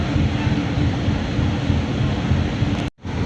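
Steady, rushing wind roars close to the microphone throughout, buffeting with a low rumble before cutting out abruptly near the end.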